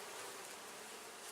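Honey bees hum inside an open hive during an inspection, a faint, continuous, even buzz with no voices.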